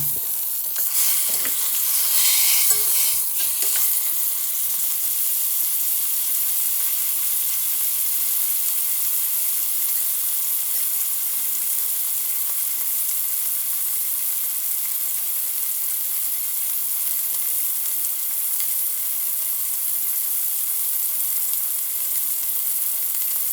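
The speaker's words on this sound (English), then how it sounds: "You're going to want to get this pan raging hot so that when you put the meat down in it, it's really going to sear" A chuck roast sears in a very hot pan with olive oil, giving a loud, steady sizzle and frying hiss that continues without a break, with a few stirring sounds near the start.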